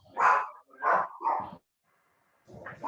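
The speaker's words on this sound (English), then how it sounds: "And that's my dog saying hello." A house dog barks three times in quick succession, loud and close, then goes quiet before a fourth bark begins at the end, with no voices over it.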